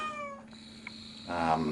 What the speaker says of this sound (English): So you can hear him just kind of meowing.